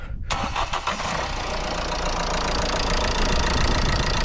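A cold Ford Transit Connect 1.8 diesel engine cranks briefly, catches, and settles into a loud, steady idle with a rough, knocking rattle, close up.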